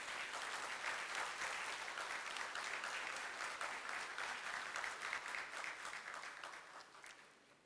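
An audience at an Indian School event in Muscat applauds steadily with dense, continuous clapping that holds for several seconds before tapering off at the end.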